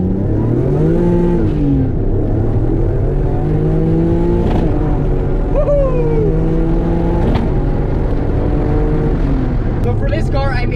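A Japanese-market 2.5 V6 turbo engine with higher compression, bigger cams and scratch-built TIG-welded headers revs up and down in several loud swells, a droning exhaust note rising and falling close by, with some talk mixed in.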